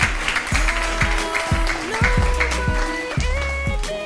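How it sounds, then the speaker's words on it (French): A quiz show audience claps for the contestants, with dense applause running throughout, accompanied by an upbeat musical jingle with a punchy bass line. "Applaudissez pour eux, s'il vous plaît."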